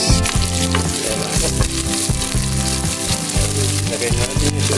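Garlic and onion sauté in a pan for adobo, giving a steady, loud sizzle throughout beneath prominent background music with a repeating bass line.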